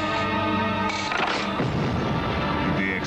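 A bomb goes off in a TV trailer for an action film, a sudden booming blast that cuts through sustained orchestral tones and then rumbles away as the music thins.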